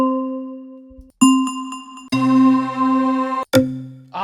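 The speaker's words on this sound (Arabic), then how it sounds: "هو ده اسمه هارد ماريمبا" A hard marimba preset from the Nexus software synth plays a short phrase of bright, bell-like mallet notes, some single and some clustered, each with a sharp attack and quick ring, clear and up front.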